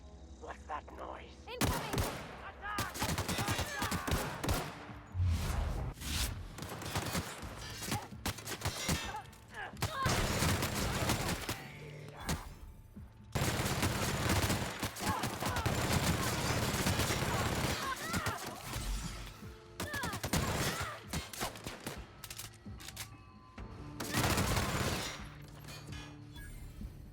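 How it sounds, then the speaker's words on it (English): Bursts of gunfire in the sci-fi game The Outer Worlds, rapid volleys and sharp shots coming in repeated clusters over nearly half a minute, interrupted by brief quiet gaps and some talking. "Who's shooting at us?"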